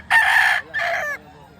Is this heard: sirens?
no